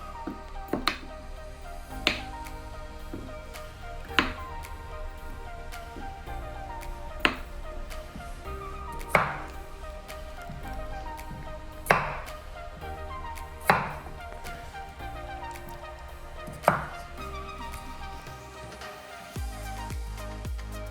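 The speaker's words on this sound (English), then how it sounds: "I'm going to take my fingerling potatoes and cut them in half." Knife chopping fingerling potatoes in half on a cutting board, a series of sharp, separate cuts spaced a second or two apart, close and clear over a steady low background hum.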